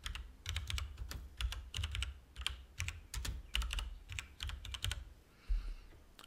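Fingers type on a computer keyboard in short bursts of crisp, close clicks with brief pauses between words, alone without speech.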